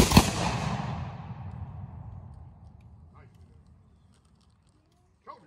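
A musket volley from reenactors at a living-history battle site: one loud, sharp blast that booms and rolls away for several seconds, followed by a faint distant pop near the end.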